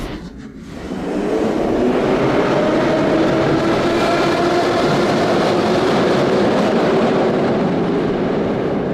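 Retro Moscow metro train built to imitate the 1935 originals, a loud continuous rumble of wheels and carriage noise rising after the first second and holding steady, no voices.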